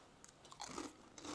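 Bites and crunches into a chip loaded with dip made from regular Lipton-style onion soup mix, close and faint, a few crisp crunches with chewing and no talking.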